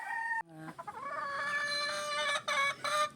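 A hen clucks loudly and repeatedly in short, rising cackles, close by, with no talking.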